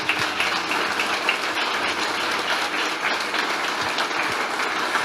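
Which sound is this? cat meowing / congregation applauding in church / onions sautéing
congregation applauding in church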